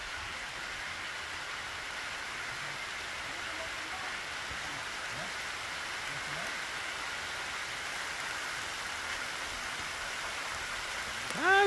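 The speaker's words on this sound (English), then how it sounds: "It's raining, ladies and gentlemen." Rain falls steadily in a mountain setting in Zambales, Philippines, a soft continuous hiss of drops on surfaces and foliage, fairly even throughout, with a faint rustle near the end.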